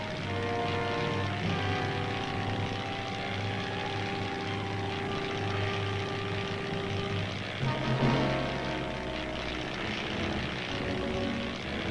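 Light propeller plane flying on an army aviation patrol, a continuous droning engine with a steady tone, shifting pitch briefly near the end as it passes.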